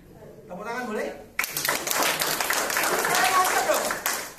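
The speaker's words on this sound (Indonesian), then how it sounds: "Tepuk tangan boleh?" Applause breaking out during a body-balance demonstration: a voice speaks briefly, then a sudden burst of many hands clapping fills the rest, loud and continuous.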